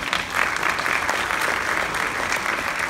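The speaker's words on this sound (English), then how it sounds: "Give yourselves a round of applause" A concert audience applauds steadily after a symphonic winds performance, a dense, even wash of many hands clapping that holds at a fairly loud level for about three seconds with no voices.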